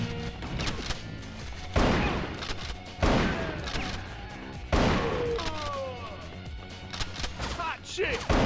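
Gunfire in the PS2 game Bad Boys: Miami Takedown, several sharp loud shots and crashes spaced a second or so apart, mixed with game music and voices speaking between the bursts.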